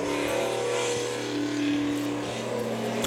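A single race car, the Dave's Auto Body machine, takes the green flag on the racetrack, its engine droning and revving steadily from a moderate distance.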